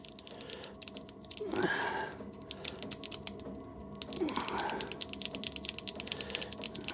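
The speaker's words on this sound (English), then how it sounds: "It's a fiberglass cleaning pen, and that's fiberglass, little bristles" A fiberglass cleaning pen with fine bristles scrubs a part of a back-plunger dial test indicator, producing close rapid scratchy clicking in two bursts separated by brief pauses, with a quiet background.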